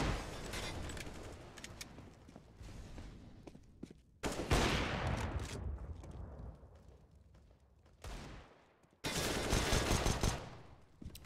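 Rapid gunfire bursts in a Counter-Strike esports match, loud automatic and pistol shots in several volleys with short gaps between them, no talk heard.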